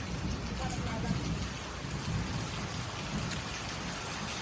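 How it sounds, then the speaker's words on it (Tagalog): Steady rain pours onto a sun-scorched farm field with carabao grass, a dense, even hiss with faint low rumbles, continuous and fairly close, without clear talking. "Buti na lang talaga umulan."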